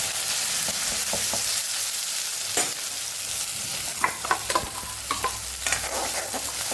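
Onions sautéing in hot oil seasoned with asafoetida, a steady loud sizzle broken by scraping stir strokes and clinks of a spoon against the pan, more frequent toward the end.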